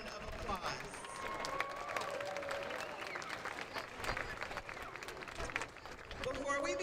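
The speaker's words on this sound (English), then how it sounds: "let's take a moment to give yourselves and each other a big round of applause" School audience at an elementary 5th grade promotion ceremony giving a sustained round of applause, dense clapping and some cheering filling the room at moderate distance, with voices mixed in.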